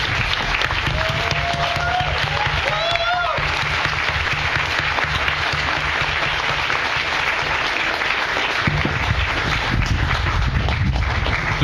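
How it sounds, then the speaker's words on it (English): An audience claps and applauds for a panel at a political talk, with steady, dense applause filling the room and a few voices and whistles rising over it. "One more round of applause for our panel."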